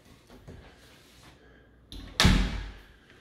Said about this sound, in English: Let's open the door for you.